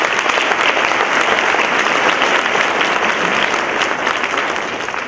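An audience gives a sustained round of applause of praise at a Martin Luther King Jr. convocation, many hands clapping densely and steadily from start to finish, loud and even, with no voices over it.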